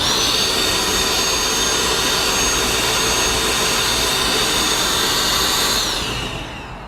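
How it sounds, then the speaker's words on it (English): A Bosch Bulldog SDS Plus rotary hammer dust extractor vacuum runs steadily with a loud, close, high-pitched whine and broadband rush that holds constant for several seconds, then starts to wind down at the end. "So that's a pretty strong vacuum to vacuum the dust as you're working."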